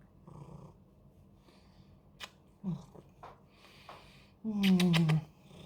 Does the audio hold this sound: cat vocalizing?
yes